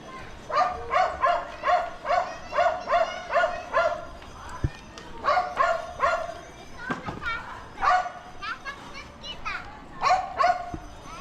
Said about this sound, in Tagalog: May kumakawal na aso sa taas eh.